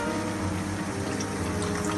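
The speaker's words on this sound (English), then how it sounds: "You can leave it like this or add a little water to it" Water being poured into a pan of cooking patio, a steady continuous trickle and splash with a low rumbling background, close and even throughout.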